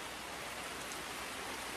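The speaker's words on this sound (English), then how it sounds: "It's raining." Steady rain falls outdoors during a porch teardown, a faint, even hiss of drops on surfaces with no other sounds.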